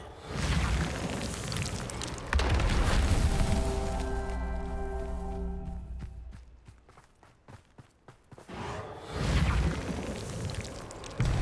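Spells cast in the Hogwarts Legacy video game, including a fiery Confringo blast: loud whooshing bursts and booming impacts, then a ringing tonal shimmer that fades into sharp crackles before the noisy bursts return.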